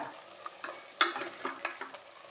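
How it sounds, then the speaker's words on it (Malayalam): Masala chicken being stirred and dry-fried in a pan with no oil, with scraping stir strokes and soft sizzling coming in uneven bursts, close and moderately loud, with no voices. "നമ്മൾ ഇതിലെ വെള്ളമെല്ലാം വറ്റിച്ചിട്ട് ഇങ്ങനെ പൊരിച്ചിട്ടെടുക്കണം"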